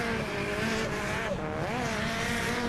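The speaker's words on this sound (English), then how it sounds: "Danny Pesic getting to do a bit of a bye run." A drift car on the crossover layout at a KIR Drift Championship round, making a solo bye run: a loud, steady engine roar with rising and falling revs and tire squeal throughout, close and continuous.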